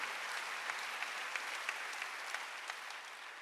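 Steady applause from a church congregation at a Wednesday worship service, dense clapping sustained evenly throughout with no talk over it.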